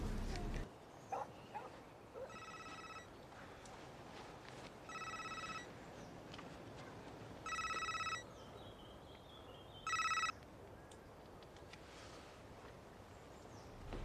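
A telephone ringing during a call: four evenly spaced electronic ring bursts, fairly faint and a little distant, over quiet room noise with a few soft knocks.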